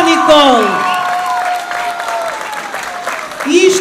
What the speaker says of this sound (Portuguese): Uma salva de palmas para a Paula e para a Nicole.